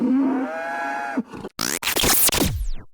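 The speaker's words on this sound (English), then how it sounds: "can we insert a comedy cow sound effect here, please?" A comedy cow sound effect: a loud, drawn-out moo is followed by a sharp burst of scratchy, cartoonish noises and sweeps that end abruptly, heard alone and close.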